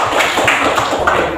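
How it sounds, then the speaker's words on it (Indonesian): A classroom group claps hands in a short, loud burst lasting just over a second, close to the microphone with quick overlapping claps. "tepuk tangan."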